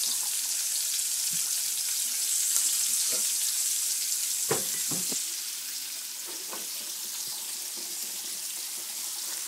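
Mushrooms frying in oil in a pan, with a steady close sizzle throughout and a few clinks and scrapes of a utensil stirring, no talking.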